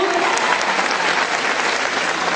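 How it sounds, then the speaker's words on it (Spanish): An audience at a school inter-school cueca dance event breaks into loud, dense applause that fills the whole moment without pause. "Felicitaciones, un fuerte aplauso"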